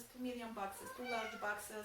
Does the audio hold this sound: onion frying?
no